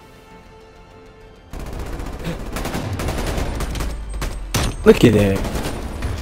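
Rapid gunfire from a low-recoil gun in the Call of Duty: Black Ops video game, a dense continuous burst of shots starting after a quiet moment and running under a player's brief talk.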